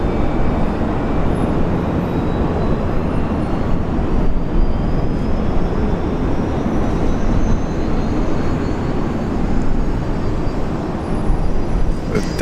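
A Jetstar airliner in a brand-new livery moves at Brisbane International Airport, its engines giving a loud, steady, unbroken roar with no voices over it.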